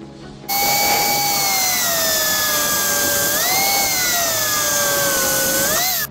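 A power tool grinds through a metal bracket for a hydraulic rear brake on a 200 Blaster, starting abruptly after a brief pause and holding a loud, high whining screech with slight pitch dips under load.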